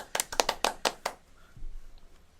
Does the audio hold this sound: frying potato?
no